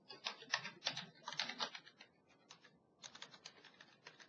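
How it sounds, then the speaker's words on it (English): Fast bursts of keystrokes on a computer keyboard, close and crisp, stop briefly near the middle and then resume. "I'm going to type in one of the variables that we're trying to find is called the listen address"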